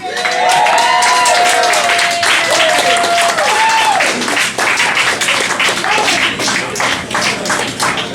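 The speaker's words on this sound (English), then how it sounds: "Let's have a big round of applause for David Marie-Garland." A comedy club crowd at Cafe Diem in Richmond breaks into loud, sustained applause and cheering for a comedian, with whoops and voices rising over the dense clapping, which gradually thins out.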